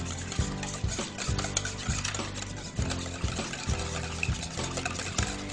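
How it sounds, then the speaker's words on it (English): Canned pumpkin and eggs are whisked together in a bowl, a quick run of wet, rhythmic scraping and clinking strokes repeating at an even pace, close and clear. "we're gonna whisk that together with the eggs"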